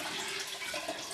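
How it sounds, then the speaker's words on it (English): Filtered cold water pours steadily into a large kombucha brewing jar, a close, continuous rushing splash with no pauses or speech. "here's 2 quarts of filtered cold water"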